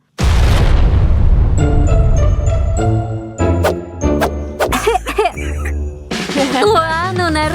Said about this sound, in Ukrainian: Лягай зараз вибухне.